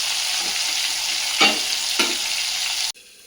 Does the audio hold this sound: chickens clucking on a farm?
no